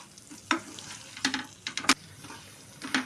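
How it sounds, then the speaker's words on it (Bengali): Potatoes and pointed gourd stirred into frying spices, several distinct scraping strokes against the pan over a low sizzle, close and irregular, no voices. "আলু ও পটলগুলো অ্যাড করে ভালো করে মেশাবো"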